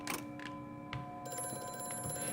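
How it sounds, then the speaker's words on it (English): Telephone bell ringing in short repeated bursts with a steady electronic tone behind it, fairly faint, with no talk over it. "Oh, it's the phone."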